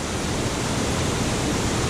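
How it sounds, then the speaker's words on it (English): Loud, unbroken rushing roar of a waterfall, dense and constant from start to finish, with no voices. "Looking down at the falls."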